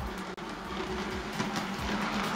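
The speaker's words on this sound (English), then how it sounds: "and I can run a goods train round" A model railway goods train runs round a simple home layout, giving a steady rolling rumble with rhythmic clicks over rail joints and one sharp tick near the start.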